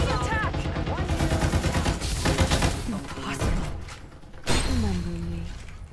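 Rapid gunfire in the battle royale shooter Farlight 84, dense bursts of automatic shots rattling through a busy fight with other game effects, while players call out to each other over it.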